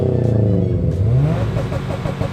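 A Subaru WRX or STI with an aftermarket exhaust revs up close and loud, its deep burbling note rising and then falling back.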